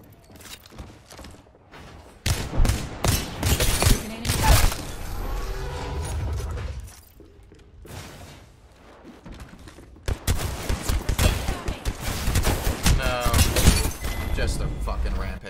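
Gunfire in a solo Apex Legends-style battle royale match, bursts of shots and impacts in clusters with quieter gaps, mixed under a player's talk.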